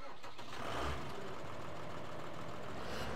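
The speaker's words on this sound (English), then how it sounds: "we'll jump into the tractor." Tractor engine idling in Farming Simulator 15, a steady low mechanical rumble that holds evenly throughout with a slight swell near the start, no talk over it.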